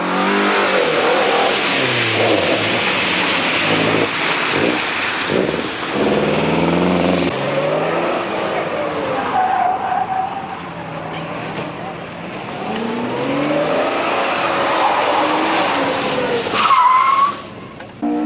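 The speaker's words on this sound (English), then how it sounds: "Graham O'Connor was to have the 5th fastest time in his Lancia Fulvia." A Lancia Fulvia rally car in the 1992 Repco Mountain Rally, its engine revving hard and rising and falling in pitch as tyres skid through corners, loud and close throughout, with a voice talking over part of it.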